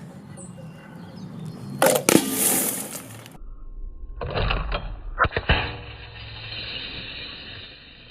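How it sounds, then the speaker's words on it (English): An iPhone 12 Pro Max fired from a slingshot smashes into panels of tempered glass: a sudden loud crash and burst of shattering, then scattered clinks and tinkling shards settling nearby. "we hit 2 panels of tempered glass. All this glass everywhere here."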